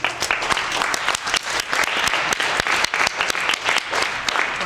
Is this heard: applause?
yes